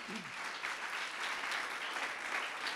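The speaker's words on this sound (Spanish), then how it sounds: "dale un aplauso al Creador" A church congregation applauding during a sermon, a steady wash of clapping from many hands, fairly distant and even for its whole length, with a faint voice at the very start.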